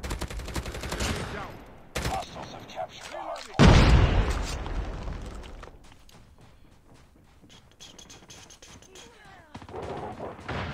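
Kilo 141 rifle fire in the mobile shooter Call of Duty Mobile: bursts of sharp shots and a heavy boom near the start, then scattered shots and clatter, with a voice talking over parts of it.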